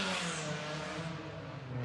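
Cars in a night street race, engines revving and whirring in a continuous roar that stays loud and steady throughout, heard from a nearby home with insulated double-glazed windows.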